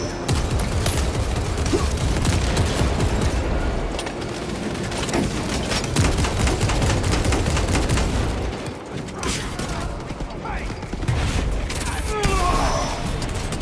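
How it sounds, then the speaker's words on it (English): A crack grenade goes off amid heavy gunfire in the Warhammer 40000: Space Marine 2 video game, with loud booms and dense, continuous battle noise throughout and a voice speaking over the chaos. "Deploying crack grenade."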